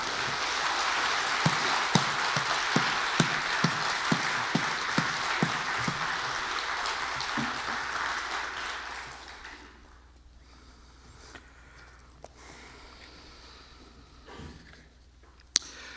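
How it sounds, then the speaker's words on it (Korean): Church congregation applauding to welcome the pastor at a Korean revival service, a broad wash of clapping with a few sharper claps that fades after about nine seconds into quiet room tone with occasional small knocks. "힘차게 박수로 맞이하겠습니다"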